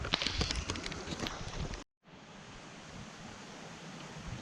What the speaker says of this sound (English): And yes, pouring down again.